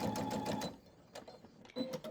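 Sewing machine stitching down one side of a quilt block seam, a close rapid mechanical whir for about three-quarters of a second, then a pause and two shorter bursts of running.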